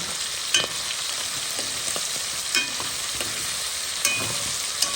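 Smoked meat and cabbage in a frying pan: a steady sizzle is broken by several sharp scraping stirs of a utensil against the pan, close by, with no talking.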